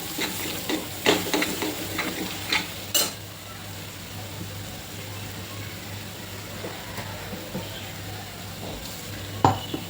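A Malvani black pea usal mixture being stirred in a pan, with a low continuous sizzle and several sharper spoon scrapes and knocks early on, close and moderately loud.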